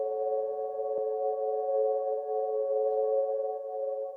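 A sustained synth pad hums with several steady stacked tones, smooth and airy with a gentle swell, alone and without any voices.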